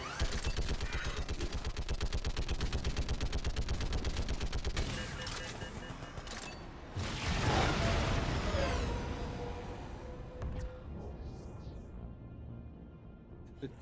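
Rapid, steady turret gunfire in Mass Effect 3 pounds loud and unbroken for about five seconds, then gives way to a heavy blast and scattered battle noise that fades out.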